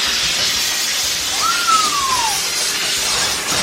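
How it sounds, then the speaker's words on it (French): A steam cleaner hisses steadily while steaming a kitchen oven, a broad, close, continuous hiss with a brief faint whistling tone gliding through the middle. "est en train de faire le four à la vapeur"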